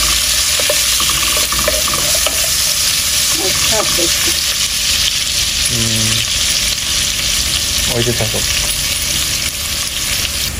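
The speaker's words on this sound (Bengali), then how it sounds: "পেঁয়াজ ভাজা হয়ে গেছে" Onions frying in hot oil in a home kitchen for bhuna khichuri, with a steady loud sizzle running throughout, a few clatters of stirring and a brief spoken remark.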